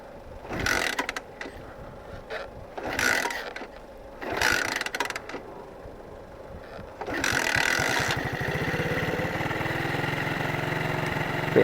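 Honda C90 motorcycle engine after carburettor tuning, sputtering through a few short bursts before settling into a steady, fairly fast idle, close and moderately quiet with no talk.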